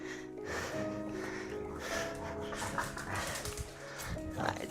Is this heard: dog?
yes